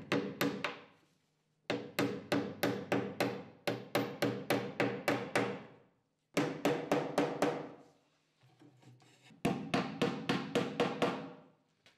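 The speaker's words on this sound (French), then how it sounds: "enfoncez à l'aide d'un marteau les petits tubes en PVC" A hammer drives small PVC tubes into drilled holes while shelves are assembled. Four quick bursts of sharp, close taps ring out with short pauses between them. No one speaks.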